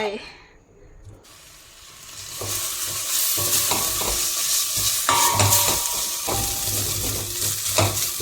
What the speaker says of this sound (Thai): ใส่น้ำมันนะคะ แล้วก็เครื่องผัดฉาใส่ลงไป